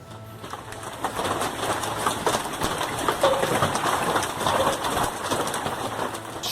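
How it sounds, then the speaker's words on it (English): Strong winds and hail pelting a yard in summer, a dense, loud clatter of impacts over a rushing background, continuous throughout with no talk. "Strong winds and hail covered the yard with relentless impacts, while the trees looked as though winter itself was crushing them in the middle of summer."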